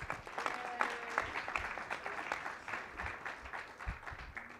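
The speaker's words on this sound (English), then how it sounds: "Round of applause for David." An audience applauds a trend-talk winner, a moderate spread of hand claps with uneven rhythm, heard from a middle distance and fading slightly toward the end.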